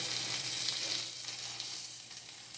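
Salisbury steak patties sizzle steadily in a frying pan, a close, continuous bright hiss of frying that holds alone with no talking.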